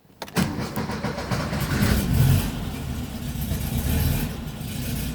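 A 1969 Porsche 912 engine, rebuilt at 80,000 miles, cranks and catches, then revs and settles into a steady, throaty idle with further rises in revs, heard up close from inside the car.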